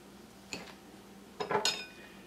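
Chopped salsa peppers and a habanero drop into a hard container while cooking, giving a faint clink, then a pair of sharper clattering knocks with brief ringing, close and quiet.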